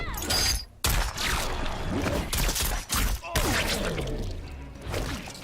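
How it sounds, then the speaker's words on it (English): Cassie Cage's futuristic sci-fi laser gun firing in Mortal Kombat 11, a rapid run of sharp zapping bursts and impacts separated by brief gaps, loud and close, with game effects crowding around the shots. "Is that a laser gun now?"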